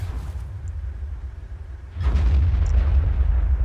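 A deep artillery shell explosion in the tank video game World of Tanks lands with a low booming burst over a constant engine rumble, the roar staying heavy after impact.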